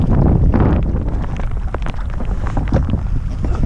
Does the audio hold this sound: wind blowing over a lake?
yes